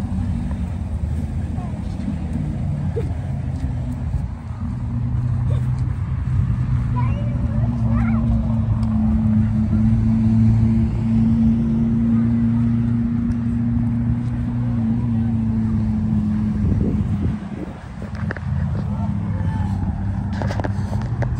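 Trucks at the Buckley Logger Days log show send out a steady, deep engine rumble that drones close by throughout, with faint voices and outdoor crowd sounds over it.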